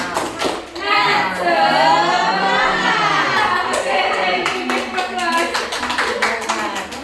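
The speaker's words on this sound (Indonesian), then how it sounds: "Tepuk semangat." A group claps a rhythmic spirit clap in a classroom or training session, sharp hand slaps in quick patterned bursts mixed with voices chanting and talking loudly throughout.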